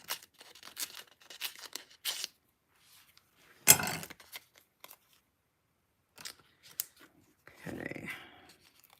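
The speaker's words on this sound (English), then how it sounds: "I gotta grab my paper snips and just cut the edges off." Paper snips cutting the edges off stamped paper, heard as a few short crisp snips and rustles separated by quiet gaps, close and fairly faint.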